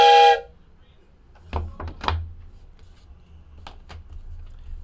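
A short, loud train whistle sound effect sounds once at the start during a basketball trading card box break, followed by quiet, intermittent talk.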